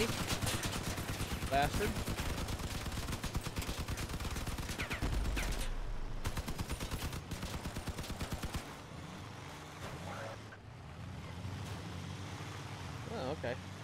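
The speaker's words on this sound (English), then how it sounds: "Got this one dude shooting at me." Enemy gunfire strikes and rattles around the player's armored vehicle in Crossout, dense bursts of rapid shots over engine rumble, easing off toward the end while someone speaks briefly.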